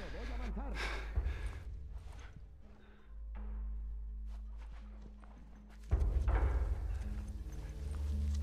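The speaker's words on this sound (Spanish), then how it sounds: "Los caballos acorazados, los quemas." Armored horses clop along in The Last of Us, hooves thudding at a steady walking pace under game music, with a louder burst of movement partway through.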